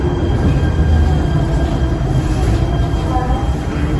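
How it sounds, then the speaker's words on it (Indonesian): A Jakarta MRT subway train at Bundaran HI station rumbles steadily with a loud low roar and faint wheel squeal, continuous throughout the underground platform or carriage. "Tadi dari Blok M menuju ke Bundaran HI kita menggunakan MRT."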